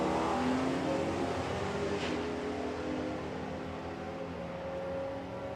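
A drag racing car making a run at the VP Doorslammers event sounds as a steady, loud engine roar with harmonic tones, holding throughout at moderate distance.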